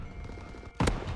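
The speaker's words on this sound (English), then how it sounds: "I'm gonna miss a lot of shots. They're warning shots, man." A loud gunshot burst in a video game cracks out abruptly near the end, following a stretch of steady low game ambience.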